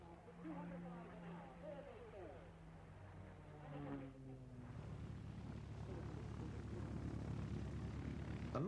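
Pitts Special aerobatic biplanes of the Toyota display team fly at an air show, their propeller engines droning and shifting pitch at a distance, swelling into a fuller roar near the end, with a voice talking over it.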